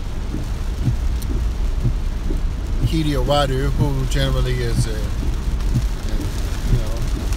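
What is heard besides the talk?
rain with thunder outside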